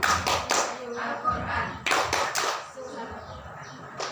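A group of children in an Islamic Quran-learning class performs the tepuk Al-Quran clapping chant, sharp rhythmic handclaps in short bursts alternating with chanted voices, close and lively.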